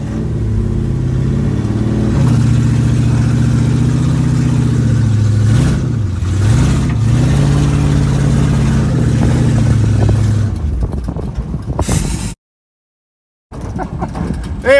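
A car engine with a freshly swapped 904 transmission runs loud and close, its pitch wavering as the throttle is worked, then it cuts out abruptly into a moment of silence before clattering noise resumes.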